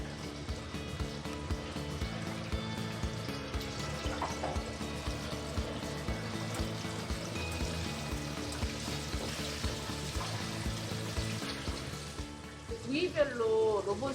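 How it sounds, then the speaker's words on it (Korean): Chicken deep-frying in a robot-operated fryer basket sizzles and bubbles steadily in hot oil, a continuous close crackle with faint clanks and a brief metallic rattle near the end. "로봇이 치킨을 튀기다니 이게 참 놀라운 세상 아닌가요?"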